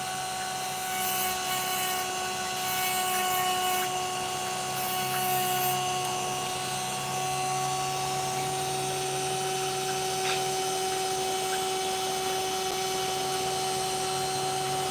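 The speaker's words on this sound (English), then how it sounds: "Cut that sand away." Power tool cutting sand away from the back of an opal, a steady high whine with a constant grinding hum that stays near and loud without a break.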